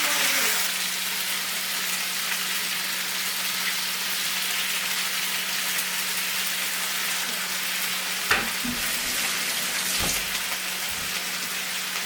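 Adobo sizzles and fries steadily in a pan, a continuous close crackling hiss with a couple of brief clatters near the end.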